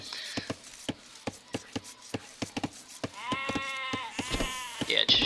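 Sheep bleat in Age of Empires II, several wavering harmonic calls in close succession over the game's sharp repeated clicks and taps, moderately loud.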